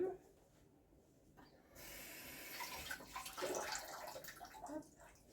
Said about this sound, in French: un petit coup sous l'eau quand même